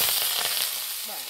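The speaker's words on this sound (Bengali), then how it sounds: "কেটে রাখা সমস্ত সবজি দিয়ে দিচ্ছি।" Chopped vegetables hit hot oil and give a bright, loud sizzle that eases off over a second or so. A faint tonal murmur rises near the end.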